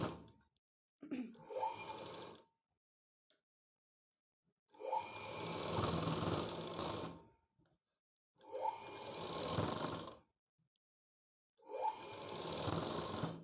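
A sewing machine stitches a blouse neckline in three separate bursts, each about two seconds of close, whirring needle clatter, with quiet pauses between them and a few light handling knocks at the start.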